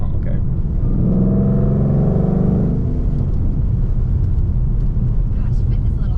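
A manual-transmission car engine revs up in a rising drone under steady in-car talk, then the pitch drops away as the driver shifts.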